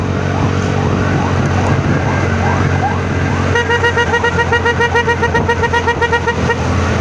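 A wailing ambulance siren sweeps up and down over steady traffic rumble at night, then shifts to a rapid pulsing yelp pattern in the second half.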